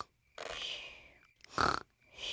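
A cartoon piglet snores while asleep: three drawn-out, nasal snorting breaths, each followed by a quiet pause.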